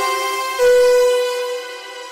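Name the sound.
sound processed through an Ableton audio effect rack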